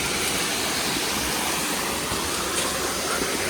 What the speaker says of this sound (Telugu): మనకి ఇక్కడ మొత్తానికి వాటర్ ఎక్కడి నుంచి వస్తున్నాయి మనకు అసలు తెలియడం లేదు